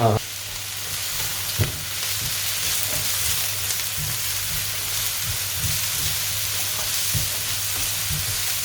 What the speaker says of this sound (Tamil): ஆனியன் கொஞ்ச நேரம் லைட் ப்ரௌன் ஆகிற வரைக்கும் ஃப்ரை பண்ணலாம்